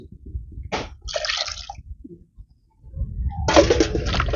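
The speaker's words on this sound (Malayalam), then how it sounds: "ആവശ്യത്തിന് വെള്ളം ഒഴിച്ച് ഉപ്പ് ഇട്ട് നമുക്ക് അടുപ്പത്ത് വയ്ക്കാം." Water is poured into a cooking pot of purple yam in two separate bursts of splashing gush, close and fairly loud, with a brief pause between them.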